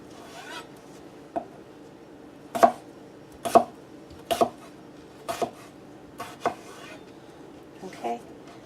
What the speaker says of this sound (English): So you want to cut up your potatoes about this size. It's about 1/2 inch cubes.